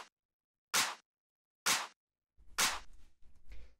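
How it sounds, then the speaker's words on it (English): Layered clap sample from an electronic dance track, three sharp, bright hits spaced about a second apart, the last joined by a low thumping layer and short decaying tail, close and dry. "Next thing we have here is the clap"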